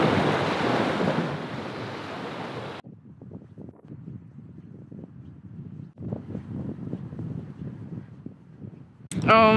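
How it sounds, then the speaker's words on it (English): Tide rolling in on a wild Pacific Northwest coast, a loud broadband wash of surf at first, then softer rhythmic wave surges with wind buffeting the microphone. "You can hear the tide coming in."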